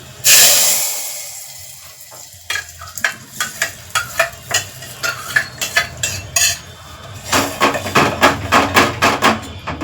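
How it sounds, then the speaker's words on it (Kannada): Cumin, mustard seeds, dry red chili and curry leaves sizzle in hot oil for a tempering for tomato saaru, followed by bursts of rapid metal spoon stirring and scraping against the pan. "ಜೀರಿಗೆ ಸಾಸಿವೆ ಒಣಮೆಣಸಿಕಾಯಿ ಬಳ್ಳಿ ಕರಿಬೇವು ಇಷ್ಟು ಹಾಕಿ ಒಗ್ಗರಣೆ ರೆಡಿ ಐತಿ ಈಗ ಇದನ್ನು ಹಾಕ್ತೀನಿ"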